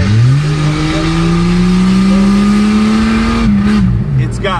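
An old Jeep engine revs hard while driving, a loud, steady rising drone that dips and shifts near the end, with people talking over it.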